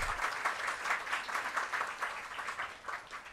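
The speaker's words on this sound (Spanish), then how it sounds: "un fuerte aplauso para Kelvin por este apoyo" Steady, fairly faint applause fills a hall at a corporate launch event, with many hands clapping at an even density for the whole stretch and no voices breaking through.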